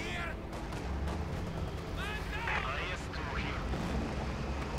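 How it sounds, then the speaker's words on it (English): Anti-tank grenade bursting in a Company of Heroes 2 battle, a dull blast buried in a dense, continuous wash of gunfire and rumbling combat noise, with chirpy higher sounds and a voice talking over it. "Quick anti-tank grenade going off there."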